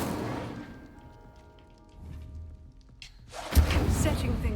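An Incendio fire spell in Hogwarts Legacy whooshes into a loud, roaring burst of flame after quieter game sounds, sustaining as a crackling rush.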